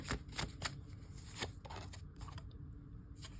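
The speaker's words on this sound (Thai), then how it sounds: "เปิดไพ่ต่อให้นะ" Tarot cards are shuffled close by, with quick riffling bursts and soft slaps of the deck in an irregular rhythm.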